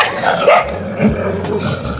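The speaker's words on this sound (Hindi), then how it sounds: "देखो कितने कुत्ते हैं बाबा के।" Several dogs gathered at a rural shrine bark and growl in quick overlapping bursts, fairly close and loud throughout, with no talk.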